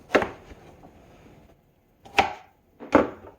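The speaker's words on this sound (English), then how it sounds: "I'm going to cut it into small 1/2 inch to 1 inch cubes" A kitchen knife chops ingredients for a sweet and savory curry into rough half-inch to one-inch cubes, three sharp, close cuts striking the board with short pauses between them and no talking.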